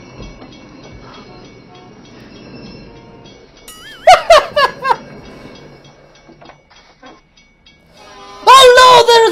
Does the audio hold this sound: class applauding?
no